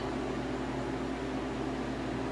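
Harvest Right freeze dryer loaded with food, starting its freezing cycle: a steady, even hum and whir with constant mechanical drone, faint and unbroken, with no speech.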